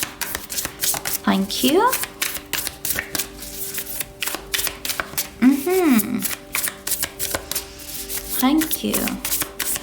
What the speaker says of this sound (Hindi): ठीक है, तो चलिए शफल कर लेते हैं सैजिटेरियस धनु राशि के लिए।